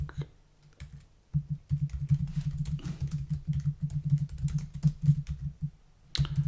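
Computer keyboard typing while entering a license name: bursts of close key clicks in an irregular rhythm, pausing briefly near the start and again near the end.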